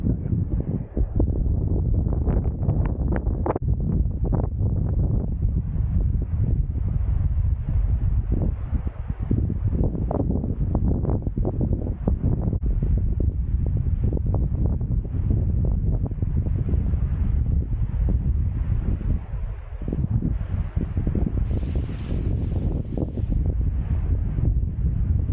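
Steady, heavy wind buffeting the microphone throughout on a fell walk up Buckbarrow in Wasdale, a loud continuous rumbling roar with gusty fluctuations and no clear voices.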